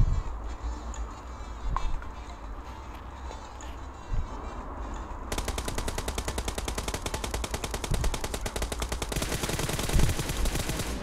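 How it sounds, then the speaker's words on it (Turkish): Automatic gunfire in the mobile battle royale game PUBG Mobile during a late-zone fight, starting about halfway in as a dense, steady stream of rapid shots, loud and close, over game ambience. "Kalkan yoktu, rastgele sıktım, görmeden vurdum."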